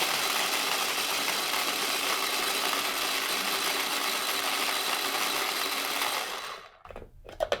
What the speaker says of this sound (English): I'm using a little food processor today.